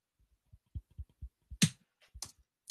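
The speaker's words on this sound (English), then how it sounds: "It's like it's me clapping my hands." A short run of soft, dry percussive hand claps recorded for use as a snare, then a few sharper, brighter claps, spaced irregularly and heard alone.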